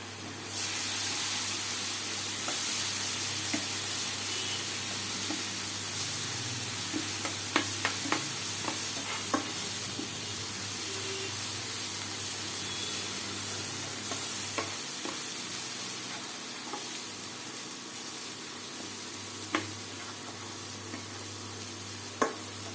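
Ginger garlic paste with turmeric and Kashmiri chili fries in a pan in a home kitchen, a steady soft sizzle and hiss broken by scattered light stirring clicks and utensil taps, with no talk.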